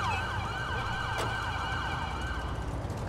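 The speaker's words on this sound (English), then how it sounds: "And I left the siren on" A police car siren wails continuously and loudly in the LSPDFR police game, a steady rising-and-falling electronic tone with engine rumble underneath and no voices.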